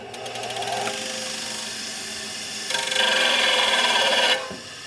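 Grinding the tip of a rocker arm from a 1961 Harley-Davidson FL 74ci panhead engine. A close, steady rasping drone runs for about a second, pauses, then returns louder and harsher for nearly two seconds before stopping.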